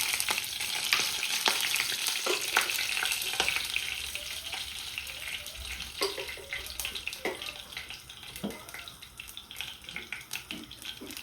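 Fennel seeds fry in a hot pan while samosa filling is made, giving a steady sizzling hiss with scattered clinks and scrapes of stirring throughout, close and fairly loud.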